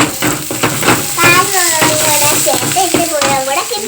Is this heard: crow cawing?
no